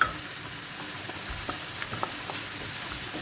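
Spring onions get stirred into coconut rice with mixed vegetables as it cooks: a steady, fairly faint sizzle with a few soft clicks and scrapes from the spoon.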